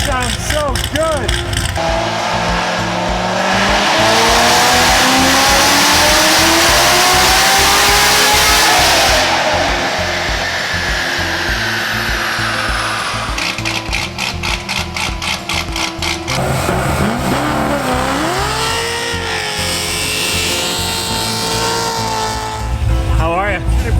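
A car engine running on the wrong fuel idles roughly, then revs up in long, loud surges and drops back, close by and dominating throughout.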